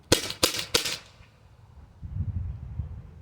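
Three rapid, sharp shots from a Byrna HD less-lethal launcher fired at close range, loud cracks spaced about a third of a second apart, followed by a low rumble of handling noise.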